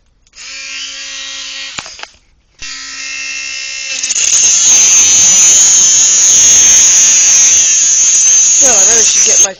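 A Dremel rotary tool cuts through a steel cable bike lock: a close, loud high motor whine starts, cuts out briefly, then resumes and turns into harsh sustained grinding as the cutting wheel bites into the cable.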